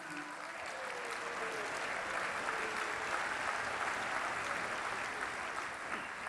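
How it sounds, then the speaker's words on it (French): Audience applause at a football club gala dinner, a continuous wash of clapping from a large room, steady and somewhat distant for the whole stretch. "on peut l'applaudir"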